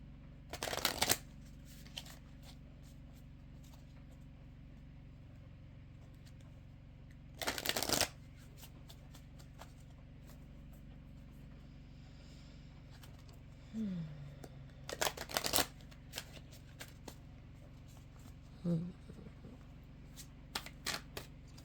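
A deck of native spirit oracle cards being shuffled, three separate riffling bursts spaced several seconds apart, near and crisp, in a quiet room with soft handling noises between.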